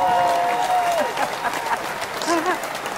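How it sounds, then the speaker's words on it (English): A television studio audience applauds a returning guest, a steady, fairly loud wash of clapping with voices and whoops cutting through it. "I love that applause."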